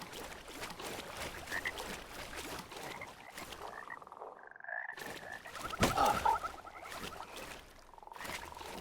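Frogs croak repeatedly in a swampy area of the dark fantasy game Mortal Shell, their rapid raspy calls layered over constant ambient noise with a brief lull midway.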